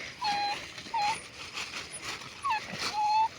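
A dog whimpers in four short, high, thin cries spaced across a few seconds, fairly close, over a faint background hiss.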